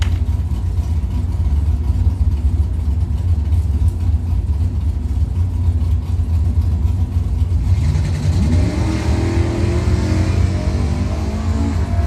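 Drag racing cars, a 1977 Camaro and a Vega, roar down the strip at a doorslammer event, a loud sustained engine drone with a rising rev partway through and no speech.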